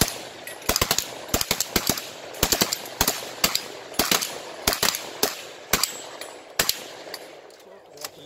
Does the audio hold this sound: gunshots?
yes